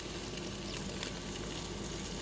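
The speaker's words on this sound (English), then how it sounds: "You can hear it sizzling." Steady crackling sizzle of food frying in a Ninja Foodi air fryer basket, a dense hiss with small pops, close and continuous.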